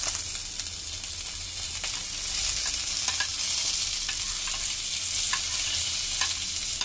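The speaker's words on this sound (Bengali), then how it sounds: "কলিগুলো ভাজবো, আবার ক্যাপসিকাম সব কিছু ভেজে নেবো।" Onion stalks and capsicum fry in a pan, a continuous close sizzle with soft crackles and light scraping ticks scattered throughout, no voices.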